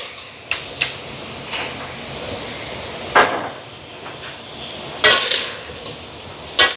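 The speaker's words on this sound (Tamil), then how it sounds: "இப்போ இதை கலந்து விடுவான்" A ladle stirs a soy meat curry mixture in a large pot of food being cooked for a group meal in Sri Lanka. Scattered metallic clanks and scrapes sound against a soft background hiss.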